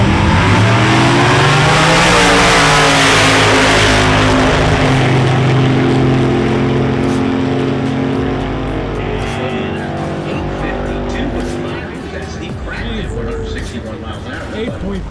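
Loud, close engines roar and rev at a Honda Accord meetup at Atco drag strip where dragsters line up among fast cars, the sustained revving fading slightly toward the end as people talk over it.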